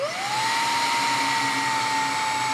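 A Xiaomi Vacuum Mini handheld vacuum cleaner starts at once, its motor whining up quickly to a steady, loud, high-pitched whirring hum that holds evenly and nearby with no talk.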